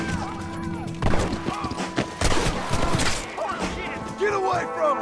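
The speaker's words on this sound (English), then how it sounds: "Trying to shoot the rope!" Rapid gunfire from the Western video game Red Dead Redemption crackles through several bursts of shots, loud and close, mixed with game effects and dramatic background music.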